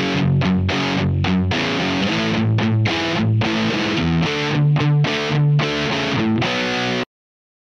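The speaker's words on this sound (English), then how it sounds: "So this is the kind of sound that comes out of the combination of an amp and a speaker cabinet." Distorted electric guitar through an amp and speaker cabinet, playing a loud, continuous riff of chugging, saturated chords with rhythmic palm-muted stops before ending abruptly.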